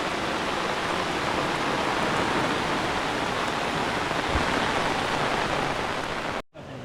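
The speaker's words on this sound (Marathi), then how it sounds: "लावताना पाऊस पडतोय मस्त वाटते" Steady rain hisses down on a farm field during planting, a dense, even wash of sound, continuous and fairly close, with no voices.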